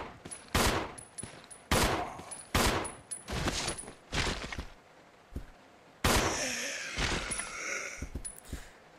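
Gunfire in Resident Evil 0 HD Remaster on PlayStation 4 comes as sharp, loud shots in irregular bursts, some single and some in rapid clusters. Brief gaps fall between the volleys.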